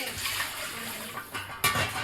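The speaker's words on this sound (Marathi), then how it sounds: "उकळी आली कालवणाला." Goat mutton curry boils in a pot, giving close watery bubbling and gurgling with a sharper surge of liquid near the end.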